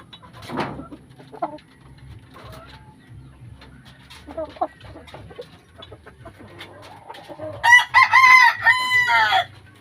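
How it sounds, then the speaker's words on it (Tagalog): A rooster crows loudly near the end, following scattered clucks and soft sounds from hens on a gamefowl breeding farm in a quiet setting. "Ito naman yung tandang."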